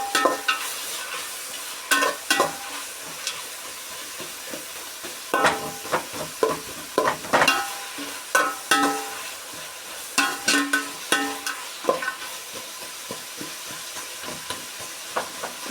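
Sliced onions sautéing for mushroom biryani while a ladle breaks them apart, producing a low sizzle under frequent rhythmic scraping and knocking strokes against the pan, close and clear.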